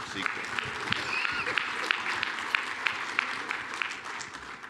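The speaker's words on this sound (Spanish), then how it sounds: "un aplauso para todos ellos" Audience applause for a panel on the challenges of a beginner internet exchange point, a steady wash of clapping with sharper individual claps standing out at a moderate level throughout.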